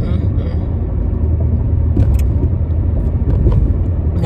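A car's engine and road noise rumble steadily while driving on a warm day with the AC on, a continuous low drone with a few faint clicks and rattles, and a voice speaks over it.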